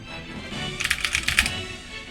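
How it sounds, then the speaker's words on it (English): Quick bursts of clicky keystrokes on a loud computer keyboard, close and clear, rising out of a quiet background for about a second before fading back to stillness. "Typing. My keyboard is a bit loud."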